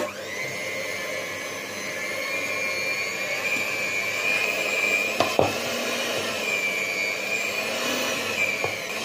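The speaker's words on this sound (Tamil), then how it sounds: "எக் பீட்டர்ல 1 2 3 இருக்கும். ஃபர்ஸ்ட்ல 1ல கொடுத்துட்டு நான் காட்டுறேன் பாருங்க" An electric egg beater mixer kneads bread dough for milk bread on speed 1, a loud steady motor whine with a slight pitch wobble and a couple of brief clacks against the bowl midway.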